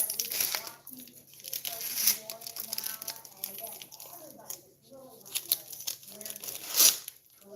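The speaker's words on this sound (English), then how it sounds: "I take my scissors and I curl the ribbon just like this" Scissors scrape along satin ribbon to curl it while candy apples are being wrapped, giving crinkly, tearing rasps in several bursts, with someone talking over them.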